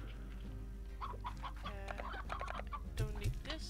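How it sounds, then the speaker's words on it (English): A rooster in the video game Slime Rancher clucks in short calls over a steady low game hum, followed by a louder squawk near the end. "There's a rooster."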